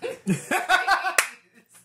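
A few quick hand claps from a small group of people in a basement, sharp and close, mixed with laughter and brief voices.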